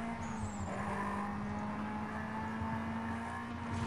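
Car engine revs and tires squeal as a Chevy accelerates and skids in Need for Speed: Most Wanted, a sustained steady engine tone with sharp screeching over it and no talking.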